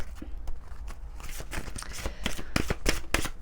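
Cards from an angel oracle deck being shuffled, a run of crisp riffling flicks and papery slaps that grows busier and louder toward the end, close up with no talking.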